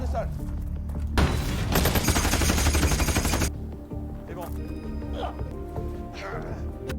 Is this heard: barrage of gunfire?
yes